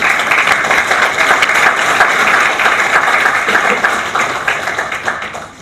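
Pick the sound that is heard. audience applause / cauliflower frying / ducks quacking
audience applause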